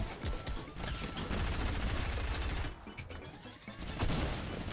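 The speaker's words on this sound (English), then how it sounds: "I have to use the minigun." Minigun fire in the Fortnite video game, a dense continuous roar of rapid shots with a short break midway before the stream resumes, loud and close.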